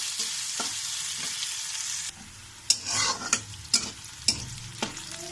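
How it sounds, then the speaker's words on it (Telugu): Onions frying in a pan for besan curry, cooked to light gold: quiet steady sizzle, then several distinct scraping stirs of a spoon against the pan over softer crackling, no talk. "లైట్ గోల్డ్ కలర్ వచ్చేలా ఫ్రై చేసుకోవాలి ఆనియన్."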